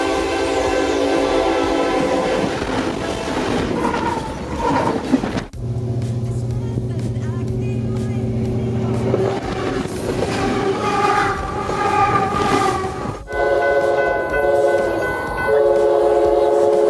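A train rumbles loudly past close by with heavy rolling noise, while its horn sounds in long sustained blasts that shift in pitch.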